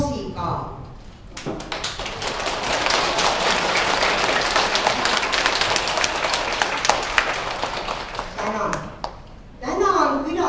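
A crowd at a children's St. Catherine's Day song festival claps loudly and continuously for several seconds, framed by brief speech before and after the applause.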